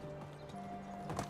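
Horse hooves clip-clop in a few quick steps in the Medieval Dynasty video game, over a faint steady tonal background, brief and fairly quiet.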